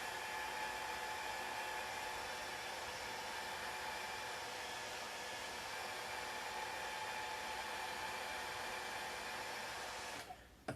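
Hair dryer blowing on a freshly painted miniature, a loud steady whooshing roar held close throughout and cut off abruptly at the very end.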